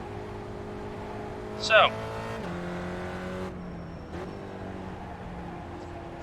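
A Spec Racer Ford Gen3 race car in iRacing holds a steady engine note that drops sharply as it shifts up, with a second step-down in pitch moments later. A brief squeal rises above the engine, and a voice speaks briefly.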